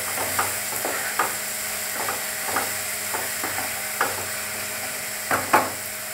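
Mustard paste masala fries in a pan for a fish curry, a steady sizzle broken by repeated scraping stirs of a spatula, close and clear with no talk.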